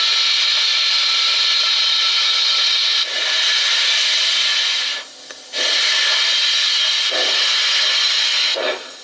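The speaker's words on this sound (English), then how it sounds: "So now the smoke generator is heating up a bit." An O gauge model locomotive's smoke generator hisses loudly and steadily up close, a continuous broad steam-like rush broken by a few brief dips.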